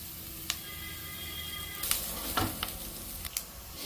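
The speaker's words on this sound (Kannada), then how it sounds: "ಈರುಳ್ಳಿ ಚೆನ್ನಾಗಿ ಫ್ರೈ ಆಗಿದೆ ನೋಡಿ" Onions frying in a pan for a bottle gourd tambuli, a faint, quiet sizzle with a few sharp clicks and scrapes.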